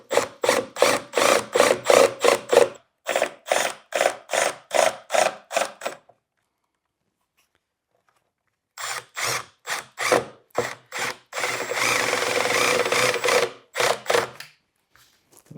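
A power drill drives screws into a wooden chair frame kit, joining a block to the rails: rapid pulsing bursts in two runs, then a quiet gap, then another burst sequence ending in a sustained whir, close and loud.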